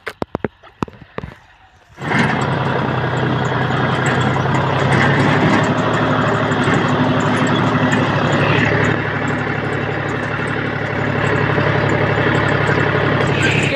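A New Holland tractor engine starts after a few faint knocks and settles into a loud, steady idle with a deep, unbroken rumble close by.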